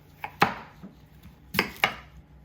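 Knife chopping through peeled yams on a cutting board, a few sharp separate thuds with pauses between, close and clear with no talking.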